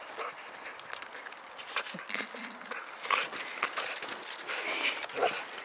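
A dog runs outdoors to fetch a stick, making soft, quiet patters and rustles of quick movement that rise and fall in brief bursts.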